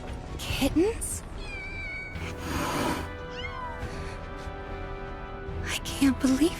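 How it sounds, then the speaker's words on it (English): Kittens meow in Final Fantasy VII Rebirth: repeated high mewing cries, some soft and some sharp, rise and fall over several seconds, with speech and game sounds mixed in around them. "Kittens?"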